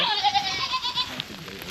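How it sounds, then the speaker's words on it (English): A goat on a snowy farm during bitter winter cold bleats in a wavering, drawn-out call, close and fairly loud for about a second before fading into quieter background noise. "Goats don't like the snow, do you?"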